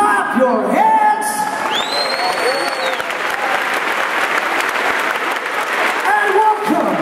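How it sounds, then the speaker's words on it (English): Large arena crowd clapping at the opening ceremony of a youth handball tournament in Scandinavium, Gothenburg, dense steady applause with occasional whoops and a voice over the PA. "Clap your hands."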